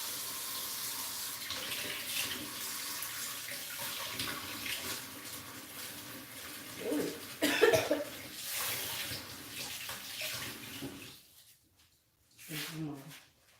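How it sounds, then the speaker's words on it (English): Cold tap water runs steadily over boiled eggs in a kitchen sink, a broad continuous rush that carries on under a person's chatter before cutting off near the end, followed by a brief burst of clatter. "I'm just putting some cold water on these boiled eggs."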